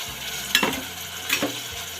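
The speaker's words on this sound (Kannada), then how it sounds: "ಮೊಟ್ಟೆ ಫ್ರೈ ಮಾಡ್ಕೊಂಡಿದ್ರೆ ಎಣ್ಣೆಯಲ್ಲೇ ಈರುಳ್ಳಿ ಹಾಕಿ ಫ್ರೈ ಮಾಡ್ತಾಯಿದ್ದೀನಿ." Onions and tomato frying in oil for egg masala curry, a soft steady sizzle close by with two quick scraping stirs of a spoon in the pan.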